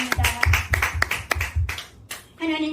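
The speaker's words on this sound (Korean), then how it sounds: "하나님께 영광의 박수 올려드립니다" A church congregation claps together in praise, rhythmic hand claps with low thumps repeating for about two seconds, then a sung or spoken voice rising at the end.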